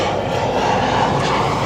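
A Boeing 747 lifting off O'Hare's runway 10 left produces a brief, loud, continuous jet engine roar with a strong low rumble, heard close and alone.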